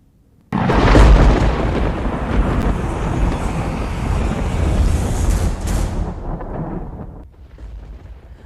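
Floodwater surges through Dhanera in Banaskantha after heavy overnight rain, a loud, dense, continuous roar that starts abruptly and holds steady before fading near the end, with no voices.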